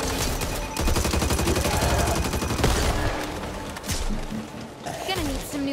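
Dense, continuous gunfire in Back 4 Blood, rapid automatic bursts blending into a loud sustained fusillade with brief pauses, a voice calling out over the shooting.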